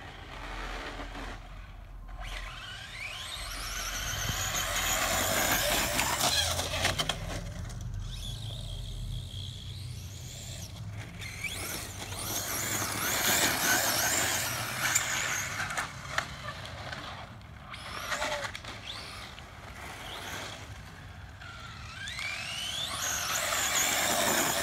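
Traxxas Slash VXL radio-controlled car with its electric motor at full throttle, a loud whining drone that rises and falls over about twenty-five seconds as the car passes nearer and farther.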